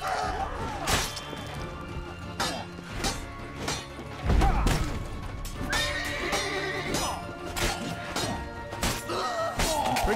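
Horse neighing in The Witcher 3: Wild Hunt, loud whinnies over clip-clopping hooves and thuds of combat, with game music and effects running throughout.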